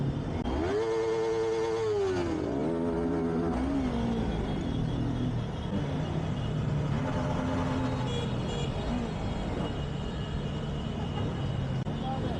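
A motorcycle engine at a gathering of riders revs with rising and falling tones and then settles into a steady rumbling run, close and loud, with people talking over it.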